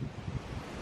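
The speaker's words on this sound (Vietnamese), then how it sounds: "Đây hôm nay gió thì rất là to." Strong wind gusting outdoors in a highland setting, a broad, low, continuous rumble and buffeting across the microphone with no talk.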